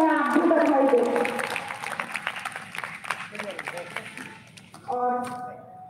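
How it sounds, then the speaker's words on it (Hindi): Applause from an audience at a formal address, clapping that starts over a voice, then thins out with a few scattered claps before talk resumes. "आप सभी से मेरा यह निवेदन कि जोरदार तालियों से इसके लिए उन्हें आप भी बधाई दें"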